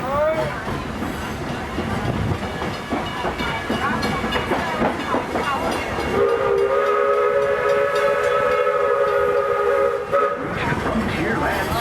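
Walt Disney World Railroad train rolls along with a steady clatter and rumble, then a long steam whistle blows loud for several seconds before the running noise continues.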